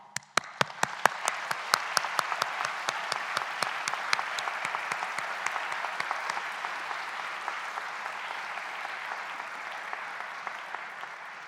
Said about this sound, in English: Graduates, would you please join me in a round of applause for all Swinburne staff?